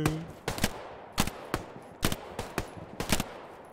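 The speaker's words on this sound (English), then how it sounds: "I hip-fired him with the pistol" Pistol hip-fire in the World War II shooter Hell Let Loose, seven or eight sharp, close shots spaced roughly half a second apart, some doubled, over quiet background noise.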